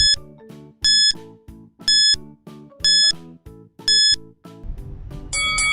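Electronic countdown timer sounding a repeating series of bright two-tone beeps roughly once a second, five even pulses, then a rising chime and buzz as it finishes, loud and close with no talk.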